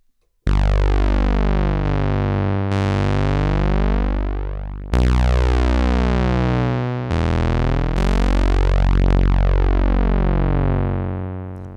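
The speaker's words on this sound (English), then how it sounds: "that's the sound of the Minitaur." Moog Minitaur analog bass synthesizer, recorded dry with no EQ, plays loud sustained bass notes in a slow sequence of about seven held tones with sharp bright attacks and long buzzy sustains, alone with no voices.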